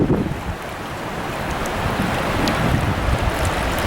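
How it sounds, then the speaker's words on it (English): Swift water rushing along the Catawba River during a kayak trip, a steady broadband wash with wind buffeting the microphone and no voices. "The water's kind of swift right in here"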